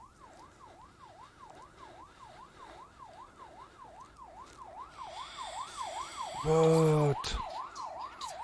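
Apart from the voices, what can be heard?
police siren in the video game Blair Witch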